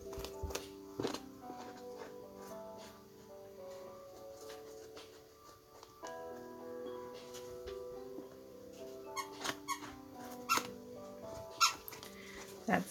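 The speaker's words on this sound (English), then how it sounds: "That's a dog squeaking one of his chew toys in the background." A dog squeaks a rubber chew toy in the background of an indoor room: quiet, repeated squeaks in uneven bursts, with soft taps and music playing alongside.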